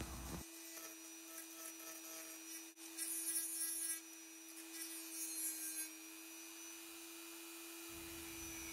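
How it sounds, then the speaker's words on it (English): A Dremel rotary tool grinds the red light out of a Kawasaki Z1 Super Six volt meter, a steady high whine with a continuous gritty rasp that holds for several seconds before easing off near the end. "then gradually grind the red light away until it falls out"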